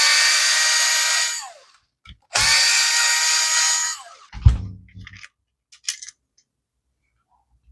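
A power screwdriver buzzes in two bursts of a couple of seconds each while removing screws from the cover of a Tamiya MB-01 RC car. The second burst is followed by small clinks and taps of parts being handled.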